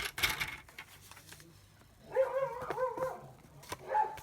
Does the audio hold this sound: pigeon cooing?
no